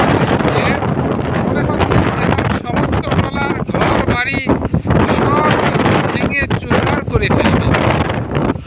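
Strong wind on the bank of the Padma river near Dighirpar, Bangladesh, blowing hard and continuously and buffeting the microphone, with someone talking over it.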